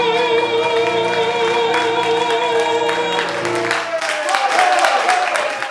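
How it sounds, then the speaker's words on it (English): Audience applause at a live book launch event, a dense wash of clapping that swells and continues while a sustained musical tone fades out, close and fairly loud. "And did you hear the applause?"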